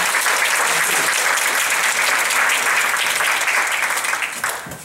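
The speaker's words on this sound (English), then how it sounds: "if you'd please give a round of applause for Father Ted" A congregation at St. Blase applauds to welcome Father Ted before a talk on Black Catholic history, giving dense, loud, steady clapping that holds for several seconds and thins slightly at the end.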